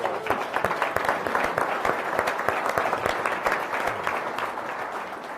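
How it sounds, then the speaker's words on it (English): Steady applause from a crowd, many hands clapping densely for several seconds and slowly easing off toward the end. "Let's give them a round of applause."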